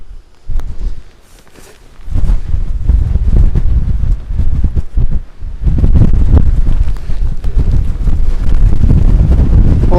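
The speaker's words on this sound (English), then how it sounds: "Well, I think it's going to be a windy one." Strong wind buffets the microphone on a winter hilltop, coming in loud, rough gusts that drop away briefly before surging back and holding near-constant for the second half, with no voices heard.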